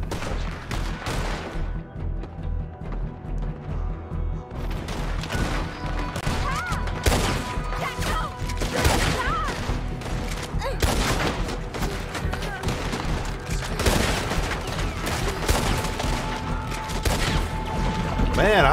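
Gunfire from Red Dead Redemption 2 during a firefight in a tree line: bursts of rifle and pistol shots crack repeatedly, some close and sharp, others overlapping in a running volley, while someone talks over the action.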